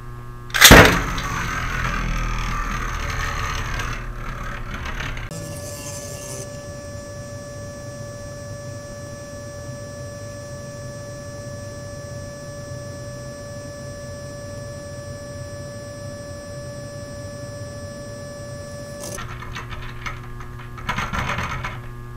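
A Beyblade Burst top is flung from a Precision Strike Launcher with a sharp ripping burst. It then spins alone for about fifteen seconds as a steady, thin whirring hum before winding down with a brief scatter of rattles.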